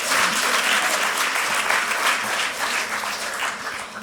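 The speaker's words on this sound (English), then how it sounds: "We can clap about this." Audience applause at a global symposium on gender bias in family films, a steady, loud wash of clapping from a large crowd that holds for several seconds with no talk over it.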